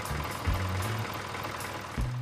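A tractor engine idling near a checkpoint, a steady mid-low rumble with a couple of brief lower surges.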